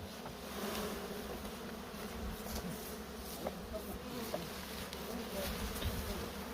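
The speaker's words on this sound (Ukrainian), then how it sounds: "Дуже гарна сім'я, спокійні бджоли." Dense, steady buzzing of many calm Carniolan honeybees close by at an open hive, a continuous drone with occasional louder passes.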